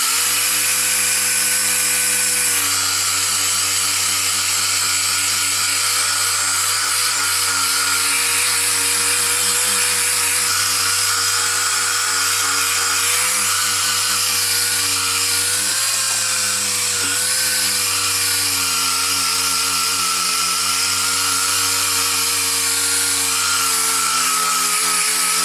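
A dual-action sander with an 80 grit block grinds continuously across the sheet-metal floor pan of a 1973-1979 Ford F-series truck, a loud steady whir with slight pitch shifts and no voices.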